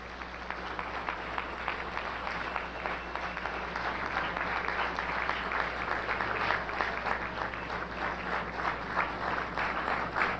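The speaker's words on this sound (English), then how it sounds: "let us give a warm round of applause for our brother" Steady applause from a large audience at a lecture event honoring Kwame Ture, dense clapping sustained and even throughout, moderately distant.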